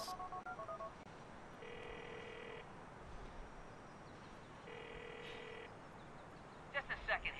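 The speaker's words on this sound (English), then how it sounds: "Let's make a phone call first." A phone call being placed in the Grand Theft Auto IV video game: a short run of keypad dialing beeps, then two separate bursts of ringback tone with a pause between, clear over a steady low background hiss.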